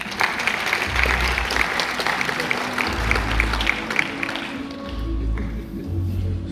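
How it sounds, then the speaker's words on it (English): An audience applauds a speaker at a startup pitch competition in Barcelona, a steady dense clapping that fades toward the end, with a low hum from the venue underneath. "Big round of applause for him."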